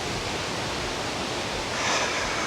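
A waterfall in Norway roars in a dense, unbroken wash of rushing water, heard up close and loud, swelling slightly toward the end.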